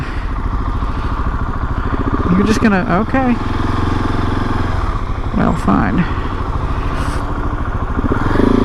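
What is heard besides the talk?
KTM 690 SMC R motorcycle engine while riding and shifting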